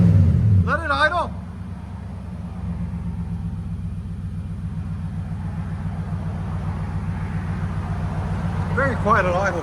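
A Nissan Titan pickup's 5.6L V8 idles through an aftermarket exhaust with a low, steady, even rumble that holds throughout, while people talk briefly at the start and the end.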